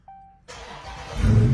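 A Dodge car engine starts after a short chime: the starter cranks, then the engine catches and settles into a louder, rumbling idle.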